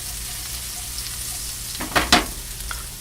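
Leeks and garlic sizzle in olive oil in a pan over high heat, a steady frying hiss with two sharper bursts of crackle as the pan is stirred.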